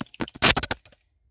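A small brass hand bell rung during a daily home puja at a household shrine, giving rapid, bright, sustained ringing strokes close to the listener for about a second before the tone fades.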